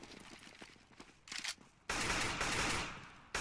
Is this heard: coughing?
no